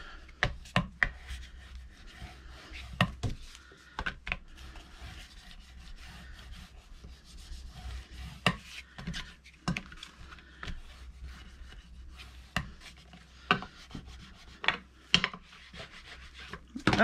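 Hands rub glued paper down onto a hardcover journal's book cover, soft scraping and brushing strokes coming close and irregular, with occasional light taps and knocks, quiet with no talking.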